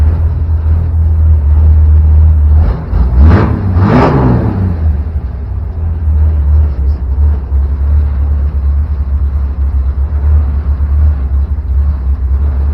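A 1964 Mercury Comet's engine runs with a steady low rumble, with a brief rev or passing whir near the start before settling back to an even idle-like drone.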